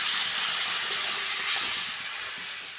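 Coconut milk, pressed from half a coconut, poured into a hot pan of brinjal curry gives a steady, loud hiss and sizzle that holds for about three seconds and eases slightly toward the end, with no talk.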